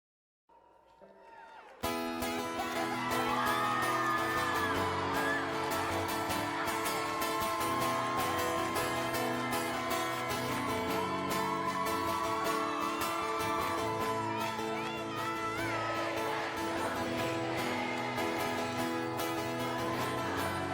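A concert crowd at a live show cheers and sings along, a dense continuous roar of many voices blended with the band, loud and sustained after a brief quiet opening.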